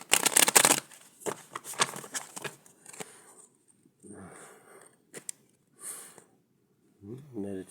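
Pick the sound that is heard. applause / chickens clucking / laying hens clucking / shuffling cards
shuffling cards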